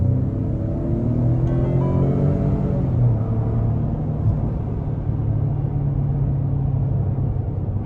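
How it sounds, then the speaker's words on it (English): A 2020 Lincoln Navigator Reserve with a twin-turbo V6 accelerates hard, and its engine hum climbs steadily in pitch over a constant loud rumble of road and cabin noise heard from inside. "We're gonna do another acceleration here."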